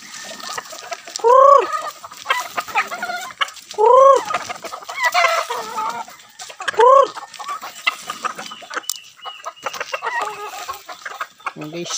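Backyard chickens kept with fattener pigs and other farm animals cluck in repeated loud bursts at feeding time, close by, with quieter clucks and faint farmyard noise between them.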